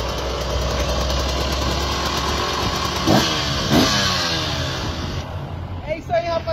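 A two-stroke motorcycle idles loudly up close, then gets two quick throttle blips that rise and fall sharply before settling back to idle, with a voice speaking briefly near the end.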